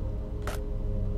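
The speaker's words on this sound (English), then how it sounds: "Weapon jammed." Single short mechanical click of a jammed weapon in S.T.A.L.K.E.R.: Lost Alpha, a brief dry snap over a steady humming game background.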